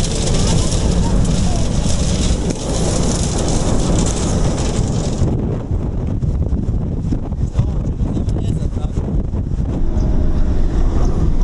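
Strong storm wind in the mountains of Croatia roars and buffets the microphone in a loud, continuous rush, with gusts rising and falling throughout.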